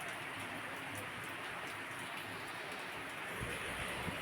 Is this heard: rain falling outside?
yes